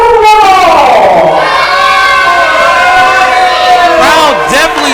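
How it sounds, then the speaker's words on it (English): A wrestling crowd jeers the reigning television champion, a loud, sustained mass of voices with rising and falling howls that fills the hall. "Crowd definitely letting Salvador have it tonight."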